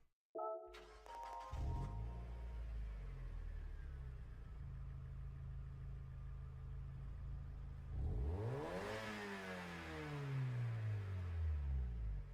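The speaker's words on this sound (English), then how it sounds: "That engine did sound different" A car engine in a racing video game idles with a steady low rumble, then revs up sharply in sweeping rises and falls, loud and close, with no voices.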